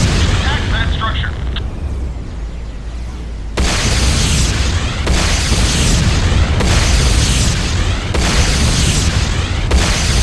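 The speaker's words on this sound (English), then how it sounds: "Enemy structure destroyed." Game-world structure blowing up in the Renegade multiplayer match, a quiet buildup followed by loud repeated explosive booms and bursts in steady pulses, with a voice announcing over the blasts.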